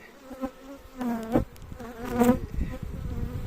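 Honey bees buzz close by at the hive in overlapping swells, individual insects droning past loudly over a softer continuous hum.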